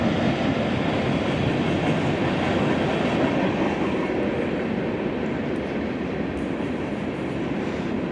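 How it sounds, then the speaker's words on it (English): A train passing near an abandoned industrial plant in Cleveland, a loud, steady broadband rumble and rattle of rail cars that holds throughout and fades a little toward the end, with no talking. "Ooh, train."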